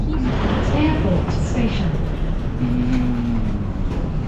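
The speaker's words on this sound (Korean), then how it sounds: "이제 들어가서 지하철 타고 가볼게요" A subway train runs in Dalian, China, with a loud continuous rumble and squealing wheel tones from inside the car, and a voice talking faintly under the noise.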